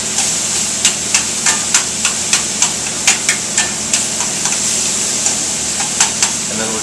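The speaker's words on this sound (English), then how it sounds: "we're just heating this basically until the butter melts and the chutney melts down a little" Butter and mango chutney melting in a hot pan give a steady bright sizzle and hiss, broken by regular light clicks and taps about every half second.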